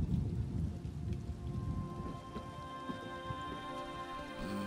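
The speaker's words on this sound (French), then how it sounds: "L'orage se dissipe." Thunderstorm in the video game The Elder Scrolls Online, with steady rain pattering and low rolling thunder rumbling throughout, loud at first and gradually easing, alone without talk.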